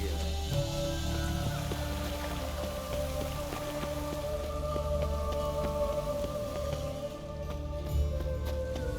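Rain falls continuously in The Witcher 3: Wild Hunt, a steady close patter and hiss layered over low ambient game tones, with no speech.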